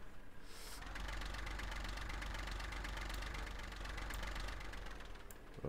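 In Farming Simulator 15, a tractor engine idles with a rapid, even knocking rumble, loud and close, running unbroken for several seconds with no talk over it.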